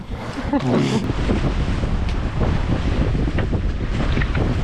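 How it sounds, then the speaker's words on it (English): Strong northerly wind roars across a sailboat at anchor in Bahia Concepcion, buffeting the microphone loudly alongside sloshing wind swell and water noise throughout. "Northerly's picked up again. Huge wind swell."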